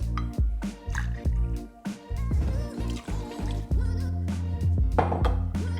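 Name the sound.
pouring tequila into cocktail shaker with ice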